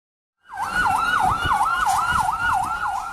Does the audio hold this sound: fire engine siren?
yes